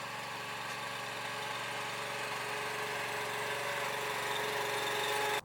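Tractor engine running steadily while pulling a finger weeder through a field during cultivation, a constant droning hum with a slight rise before it cuts off abruptly at the end; no talk.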